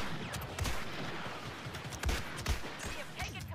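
Cycler rifle shots fired from the hip in Star Wars Battlefront 2, a few sharp cracks spaced irregularly over busy battle noise, with a voice faintly present underneath.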